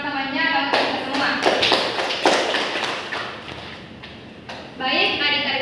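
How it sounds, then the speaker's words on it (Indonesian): Classroom applause during a microteaching lesson on bacteria: a burst of dense clapping from a group of students, sustained for several seconds, with a teacher's voice speaking before and after it. "Beri aplaus untuk teman-temannya dan kita semua."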